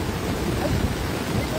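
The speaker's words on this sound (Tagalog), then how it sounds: "Malakas ng ulan." Heavy rain pours outdoors during cast net fishing, a dense, steady hiss and patter with low rumbling underneath, continuous and fairly loud with no clear gaps.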